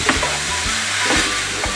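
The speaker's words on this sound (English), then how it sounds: "Half teaspoon dried thyme, half teaspoon curry powder, Give it a good stir." Meat pie filling with dried thyme and curry powder sizzles in a hot pan while being stirred, a steady close frying hiss with soft scraping strokes of the spoon.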